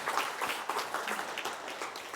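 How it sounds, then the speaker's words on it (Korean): Audience applause at a shared-growth forum in Korea, a steady wash of many hands clapping at moderate distance, continuous for a couple of seconds with no speech over it. "한번 박수 쳐보세요."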